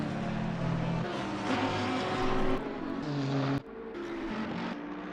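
GT3 race cars, including a Bentley and a McLaren, at Spa-Francorchamps in a racing game: a steady, loud engine roar with shifting pitch as cars pass, briefly dropping near the end, with no talk over it.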